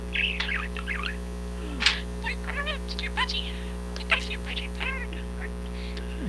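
A budgerigar chatters in quick, squeaky mimicked phrases and chirps over a constant low electrical hum, close by.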